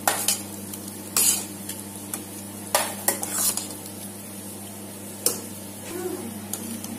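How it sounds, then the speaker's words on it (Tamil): Sambar rice in a pot is stirred after ghee is added, giving close scraping and clinking of a spoon against the metal vessel in irregular strokes over a low steady background hum. "இப்ப நெய் சேர்த்தாச்சு"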